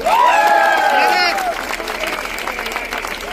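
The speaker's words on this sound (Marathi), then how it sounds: "त्या पोलिसांसाठी एकदा जोरदार टाळ्या द्या." A crowd at a protest rally in Sambhaji Nagar breaks into applause for the police, sustained clapping and hubbub under a loud voice with tonal speech at the start.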